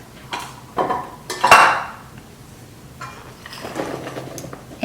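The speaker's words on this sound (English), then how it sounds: "add all the nuts" Nuts tipped into a bowl of fruit cake mixture give a few sharp clinks and clattering knocks against the bowl, in brief bursts with short pauses between, close and fairly loud.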